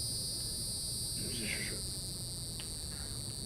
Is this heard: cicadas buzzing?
yes